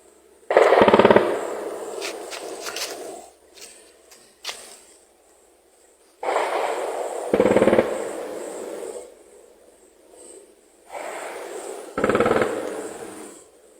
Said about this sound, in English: They are shooting.